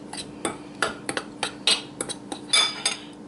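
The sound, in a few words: mixing cornbread batter ingredients with salt in a bowl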